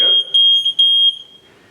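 Shrill, steady beeping from the water leak detector of a Gold RO reverse osmosis system, loud and close, pulsing in a few long tones before cutting off into near silence.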